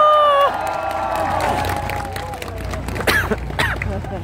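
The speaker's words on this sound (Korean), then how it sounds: "우리 어머니를 위해서 힘찬 응원의 박수 한번 보내주시기 바랍니다" A crowd at an outdoor rally in Gwanghwamun Square breaks into applause and cheering, with scattered shouts and claps building after an amplified voice fades, fairly loud and spread out.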